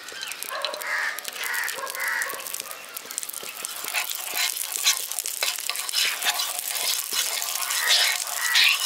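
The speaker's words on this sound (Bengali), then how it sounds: "এখানে যে পাউরুটিগুলো কেটে রেখে দিয়েছি, এবার এগুলোকে ভেজে নেব।" Bread pieces frying in ghee in a nonstick pan, a continuous bright sizzle with scattered crackles and pops close by, alongside crows cawing outdoors in a village setting.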